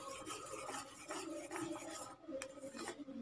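A spoon scrapes and stirs a white snow milk sweet mixture in a pan on the stove, a soft repeated rasping and rubbing with faint metallic clicks, quiet and close.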